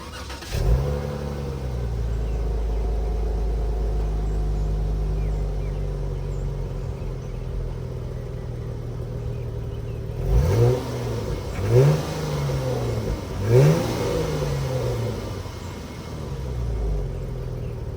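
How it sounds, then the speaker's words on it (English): A Dodge Challenger SXT with its muffler deleted idles after a warm start, a steady deep rumble broken near the end by three short throttle blips that rise and fall, loud and close with no talking. "So I'm gonna give you a nice little warm start"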